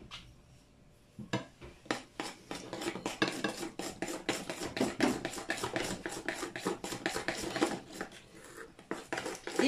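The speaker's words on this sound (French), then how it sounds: "on met tout ça dans le saladier et on mélange tout." Cake batter for mini vegetable cakes mixed by hand in a salad bowl, with a brisk run of rhythmic scraping strokes against the bowl that starts after a brief quiet moment and continues close and steady.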